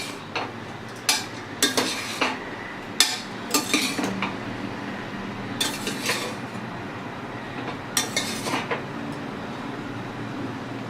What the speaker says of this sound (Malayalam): ഞാൻ ജസ്റ്റ് ഒന്ന് ഇളക്കി കാണിക്കാം